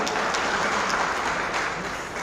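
Loud, dense applause fills the hall at a school prize-giving ceremony honoring student achievers at Tagore School, Taranagar. The clapping is a steady, sustained wash from a large crowd with no pause.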